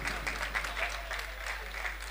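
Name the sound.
audience applause at poetry book launch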